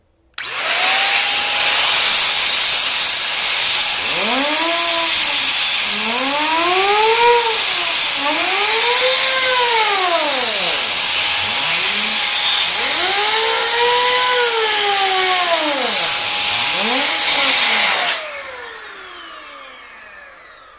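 A 500 W electric air duster blows hard at high speed at a fan, giving a loud, steady, close-up rushing whine that lasts about seventeen seconds. Wavering tones rise and fall as the fan blades spin up, and the sound cuts off abruptly.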